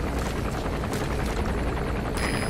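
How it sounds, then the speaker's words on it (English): A helicopter lands in Metal Gear Solid V: The Phantom Pain, its steady rotor thrum and engine roar filling the scene loudly and continuously without pause. "There's a chopper landing."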